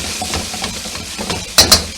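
Pepper steak being stir fried in a pan, with a steady low sizzle and soft scraping stirs, plus two sharper clanks of a utensil against the pan near the end.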